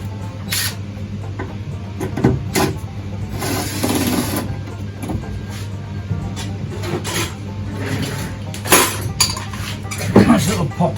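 A small pot being handled during an MGB car restoration, with loose metal parts clinking and rattling inside in scattered bursts over a steady low mains hum.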